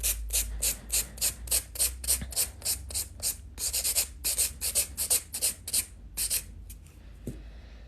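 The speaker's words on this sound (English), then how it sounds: "I use both e-file and a regular hand file." A hand file rasps rhythmically across a hard gel acrylic nail, a rapid series of close, crisp strokes at an even pace, briefly pausing midway before trailing off.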